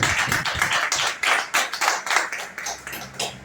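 Congregation in a church clapping and applauding, a dense run of hand claps rising and falling in bursts, fairly near and without talk over it.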